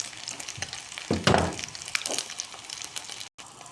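Chicken frying in a pan with cumin powder, coriander powder, chili powder and salt, a close crackling sizzle that swells into a loud burst of stirring midway, then settles before a brief cut to silence.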